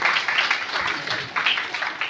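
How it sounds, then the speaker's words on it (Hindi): Audience at a Citizen First Organization conference applauding strongly, a dense wash of clapping that stays steady for about two seconds with slight surges, no talk over it. "एक बार जोरदार तालियां"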